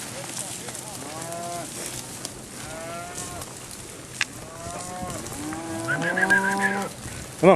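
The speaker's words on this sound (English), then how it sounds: "Pushing them cows." Cattle mooing repeatedly during a New Mexico cattle drive, several drawn-out lowing calls from different animals at moderate distance, with outdoor background noise and people calling out in between.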